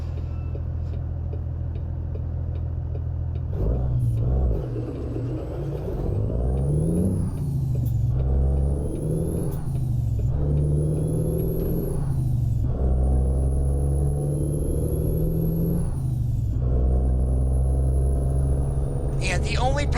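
Steady low rumble of a Kenworth T680 semi-truck engine in American Truck Simulator, with repeated rises and falls as it revs through gears, plus occasional high whines, continuous throughout.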